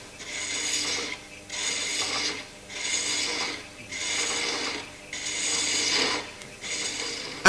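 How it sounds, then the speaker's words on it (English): Hand-chasing a thread along a wooden spigot on a lathe: six rhythmic rasping passes, each about a second long with short pauses between, close and steady, with no voices. "Only when the thread is established along the whole length of the spigot is it possible to take full passes in one go."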